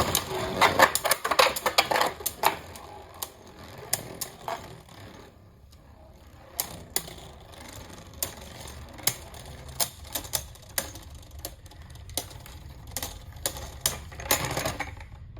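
Union Achilles and Wizard Fafnir Beyblades spinning and clashing in a stadium after launch, heard as a steady whirring rattle with sharp clicking collisions scattered throughout, a dense burst of impacts early on and a brief lull midway.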